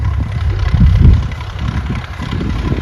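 A tractor engine rumbles nearby, loud and low, with a steady throbbing drone that swells slightly around the middle, with no one talking over it.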